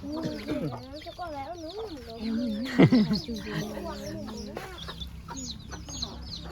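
Chickens clucking nearby in a rural yard, repeated short clucks and squawks with one louder burst midway, heard under and between people talking.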